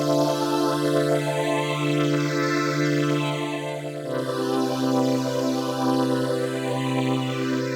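The initial preset of the PECS synth plugin, played from a MIDI keyboard, gives a sustained, shimmering, evolving pad tone that holds one chord, then shifts to another about halfway through, steady and moderately loud with no voices.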